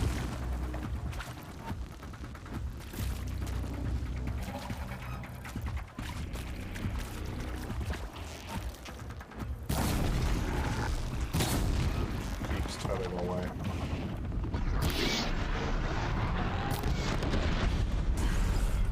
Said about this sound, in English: that was a massive explosion. I think both bombs went off at the same time.